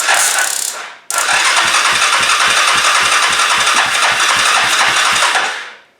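A 2002 Yamaha Kodiak 400 ATV with a carb in need of a kit catches on the starter after a brief cut, then runs with a loud, rough, rapidly pulsing idle before fading out.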